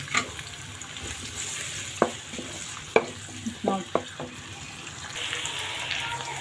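Onions go into hot oil in a pan for aloo methi, giving a steady moderate sizzle with several sharp clanks and scrapes of a spoon stirring, and a brighter hiss rising near the end.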